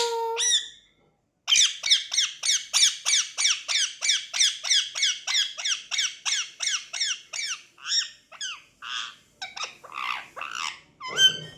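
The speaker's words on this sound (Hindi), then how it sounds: "मिट्टू बोल दो, मिट्टू बोल दो, मिट्टू मिट्टू।" A ring-necked parakeet squawks in a fast run of about twenty sharp, evenly spaced calls, then breaks into a few looser, uneven squawks. The bird is close and loud, and no talk is heard over it.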